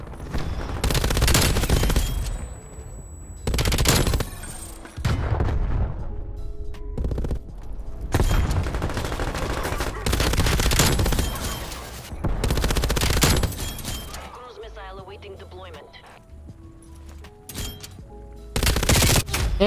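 MG 82 machine gun in a video game firing long, loud sustained bursts at close range, broken by short pauses, with other bursts and faint game effects in the gaps.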